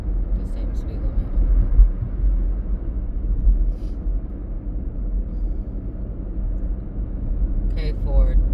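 A Ford car's engine drones steadily as it climbs uphill, a continuous low rumble heard from inside the cabin with no break, ending with a brief voice.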